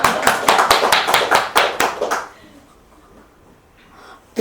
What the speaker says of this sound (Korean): 아이고 박수.